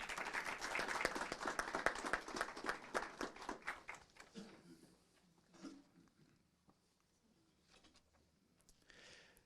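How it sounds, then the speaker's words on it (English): Audience applause at a city council meeting: a dense burst of many hands clapping that thins out and fades after about four seconds, leaving scattered faint claps and room sounds. "if we could give her a round of applause as well"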